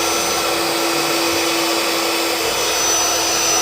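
A Philips vacuum cleaner with a power brush, said to sometimes fail to spin, runs steadily and loudly up close with a constant broadband whine and a thin high tone, no speech over it.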